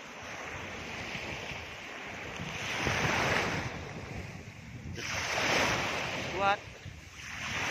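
Waves washing onto a seashore at a Tanza, Cavite resort, soft surges rising and fading in slow swells under wind buffeting the microphone, with a brief spoken word near the end.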